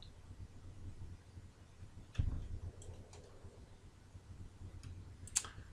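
Sparse mouse clicks while selecting a point on a planar area in 3D scan-fitting software: a few faint, isolated ticks spread over a quiet room hum, with one slightly louder click midway.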